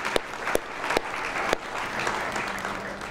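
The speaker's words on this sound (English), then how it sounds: "let's all applaud the family caregivers who are here today." A conference audience at a Parkinson's event in Tulsa applauds family caregivers, giving a short burst of crowd clapping with a few sharper claps standing out, nearby and without speech.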